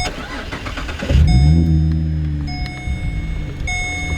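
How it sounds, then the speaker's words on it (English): A GM car engine cranks and catches partway through, its start loud and close before settling into a steady idle, with electronic chimes and tones ringing repeatedly over the running engine. "you just want to press in this little knob and then start your car up"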